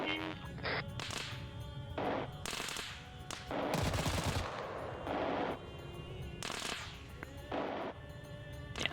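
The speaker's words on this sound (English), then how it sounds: "Yes, they're firing back and forth." Back-and-forth gunfire in an Arma 3 special forces operation against Islamic State fighters, with sharp bursts and single cracks overlapping in dense, loud exchanges across the whole stretch.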